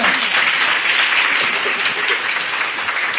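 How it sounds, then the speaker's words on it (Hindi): Audience at a business-plan meeting applauding, a dense, steady wash of many hands clapping together for the whole stretch, fairly loud and close. "एक बार ताली अपने लिए हो जाए"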